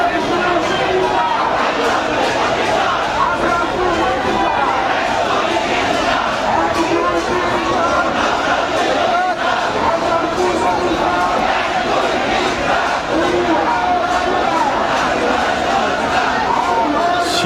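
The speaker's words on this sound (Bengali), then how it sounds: "দুইটি সড়কে তারা অবস্থান গ্রহণ করে সেখান থেকে তারা আন্দোলনের স্লোগান দিচ্ছেন" Protesting teachers chant movement slogans from two occupied streets, a dense, steady crowd roar of many voices that stays loud and unbroken throughout.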